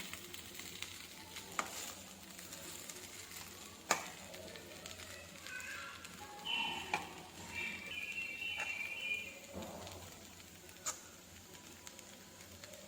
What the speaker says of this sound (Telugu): తర్వాత మళ్ళీ మూతను తీసి ఇంకోసారి కలుపుకోవాలి